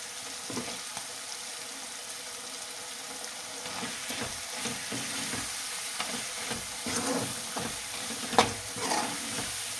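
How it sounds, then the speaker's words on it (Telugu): Goat tripe curry with plenty of oil and ginger paste fries in a pan, giving a soft, steady sizzle with irregular stirring scrapes and clinks nearby and no speech. "ఇంకా బాగా ఎగాలండి నూనెలో, మంచిగా ఫ్రైలాగా అవ్వాలి"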